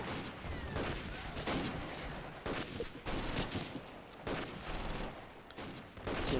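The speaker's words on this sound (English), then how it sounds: "Hopefully this Stug will be able to give some fire support." Gunfire from a StuG assault gun and other weapons in the Close Combat war game, heard as dense, continuous rattling bursts with some heavier booms, fairly quiet and with no speech.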